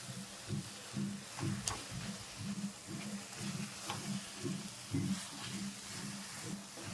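Wheat halwa mixture frying in ghee makes a steady close sizzle with soft rhythmic stirring scrapes, continuous and moderately loud with no voices.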